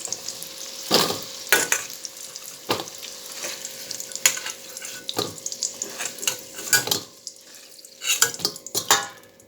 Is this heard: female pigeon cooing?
no